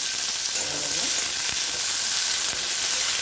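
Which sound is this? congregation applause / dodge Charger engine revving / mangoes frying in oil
mangoes frying in oil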